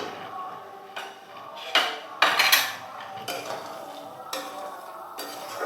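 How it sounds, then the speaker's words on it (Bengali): A spoon stirring pickled green chilli and lemon in a pan on a gas stove, giving intermittent close metallic scrapes and clinks against the pan in an uneven rhythm, fairly quiet, with no one speaking. "এটা দিয়ে আর কিছু সময় নাড়াচাড়া করব"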